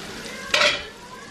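Spring onion, garlic and butter sizzle in a pan with a steady background hiss, and one short, brighter scrape of stirring lands midway.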